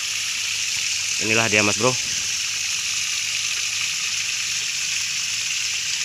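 A water pump runs in a tarpaulin tilapia pond, giving a constant hissing rush of flowing water throughout, with someone speaking briefly over it near the start.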